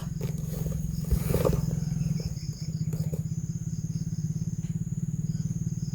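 Motorcycle engine idling and puttering nearby with a steady low pulsing throb, while insects buzz in the background and a brief louder burst comes near the start.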